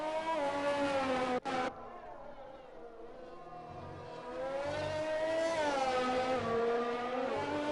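Engine whine from racing cars in a sim racing game at a Hungary race, a sustained harmonic drone that rises and falls in pitch, briefly cut after a second, then climbing louder toward the end.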